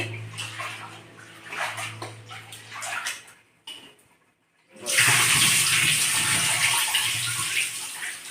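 Chana dal washed in water in a kitchen, with close pouring and sloshing, a brief quiet gap, then a loud steady gush of running water, no speech.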